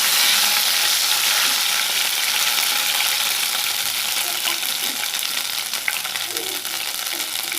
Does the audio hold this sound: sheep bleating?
no